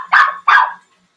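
Pet dog named Bubby giving two loud, close barks in quick succession, each sharp and slightly drawn out, then silence.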